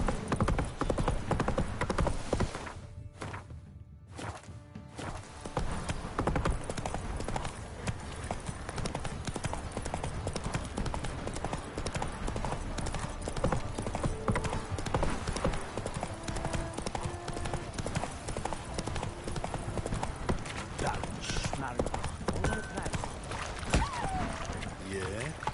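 Roach, the horse in The Witcher 3, gallops in steady rapid hoofbeats that run nearly the whole time, pausing briefly early on, with game ambience and a voice over the pounding rhythm.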